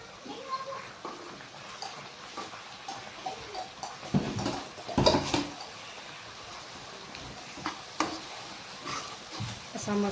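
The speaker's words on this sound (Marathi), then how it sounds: "आपण यात रवा आता याच्यात फिरून घेऊया." Semolina stirred into salted boiling water in a kadhai, soft scraping and bubbling with clinks of the spoon, a louder burst of stirring midway, and a voice talking in the background.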